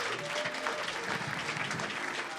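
An audience at a live talk show applauds steadily throughout, a dense wash of many hands clapping together at moderate volume, with a faint tonal hum underneath and no talk.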